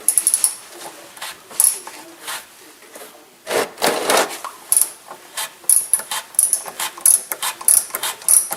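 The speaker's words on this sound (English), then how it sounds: "You need a 36mm socket to get that housing out." A ratchet with a 36mm socket loosens the oil filter housing on a Porsche Cayenne Turbo, close rapid clicking strokes in bursts with a louder grinding stretch midway.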